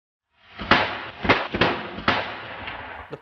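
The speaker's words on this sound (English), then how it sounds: "a smoldering piece of rope attached to a pole set the cannon off" A black-powder cannon, touched off with a smoldering rope on a pole, fires a salute: a burst of sharp, cracking bangs that roll and echo outdoors before trailing off.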